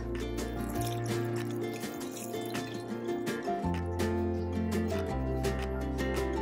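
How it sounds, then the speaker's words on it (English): Three cups of veggie broth poured into a pot, a close, continuous glugging and splashing of liquid with rising, bubbly tones as the pot fills. "I'm adding 3 cups of veggie broth."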